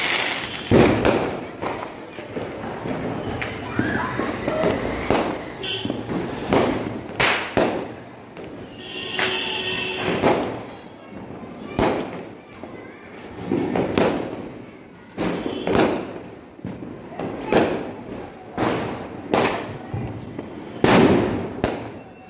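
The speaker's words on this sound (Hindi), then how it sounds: "देखिए कितना ज्यादा शोर गुल हो रखा है, मतलब पटाखों का।" Firecrackers and fireworks explode repeatedly during Diwali celebrations, with loud booming bangs and sharp cracks, some near and some farther off, in an irregular barrage that lasts throughout, with voices audible in between.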